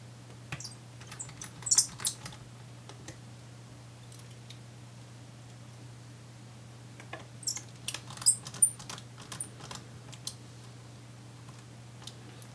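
A screwdriver drives screws back into the bottom bar of a Dell Inspiron 15-5510 laptop, producing faint scattered ticks and small clicks over a steady low hum, in two clusters split by a quiet stretch.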